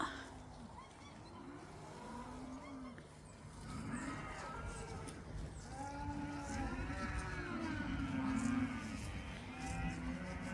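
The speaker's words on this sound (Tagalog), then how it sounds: "Yan lang sila yung mga baka dito." Several cattle moo from a moderate distance, overlapping low calls repeating through the clip over steady outdoor background noise.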